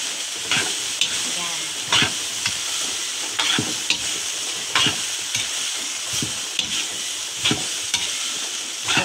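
Pancit noodles being stirred with other ingredients in a hot pan, a continuous sizzle broken by regular sharp scrapes and clacks of the utensil against the pan, close and fairly loud.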